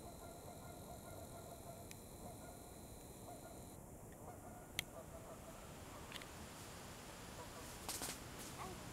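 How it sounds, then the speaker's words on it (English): A flock of about twenty geese honking at an abandoned stone quarry, faint and distant over a steady broadband background hiss, with a few scattered calls. "Actually, they're geese. Oh, there's about 20 of them."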